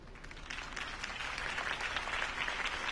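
A crowd applauds after a campaign speech in the Batman Telltale Series video game, a dense, steady wash of clapping that swells slightly over three seconds.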